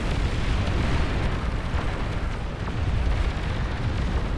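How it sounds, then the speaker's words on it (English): Nuclear missile explosions in the real-time strategy game Beyond All Reason during a massive 50-versus-50 battle, a continuous loud rumbling roar of blasts and booms with no pauses. "Anti-nuke intercepts nuclear missiles being launched."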